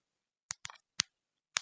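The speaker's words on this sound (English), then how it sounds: "Excuse my typing." Typing on a phone keyboard, several quick soft taps in a short irregular burst, close and quiet in a silent room.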